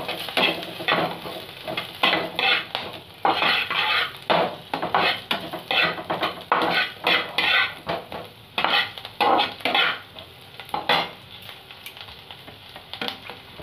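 Chopped ginger frying in hot oil in a pan, a steady sizzle under repeated scraping strokes of a spoon stirring in an uneven rhythm, close and fairly loud, no talking.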